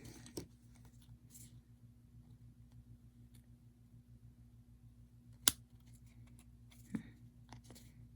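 Scissors cut a card with a few crisp, separate snips over a faint steady electrical hum in a quiet room. One snip stands out louder than the rest.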